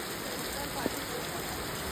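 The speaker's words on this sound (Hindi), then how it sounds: "इतनी भयंकर बारिश हो रही है" Heavy rain pours over the sea at Arambol beach in Goa, a dense, steady wash of noise that never lets up, with a faint voice buried beneath it.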